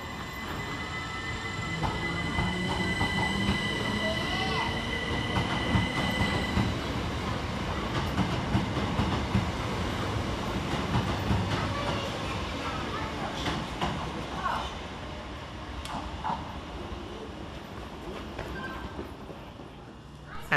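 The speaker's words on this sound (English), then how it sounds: "377-142 departs on time for Brighton." A Class 377 electric train, unit 377-142, pulls out of Eastbourne railway station for Brighton with a steady rumble and rolling wheel and rail noise that slowly fades, with faint squeals along the way.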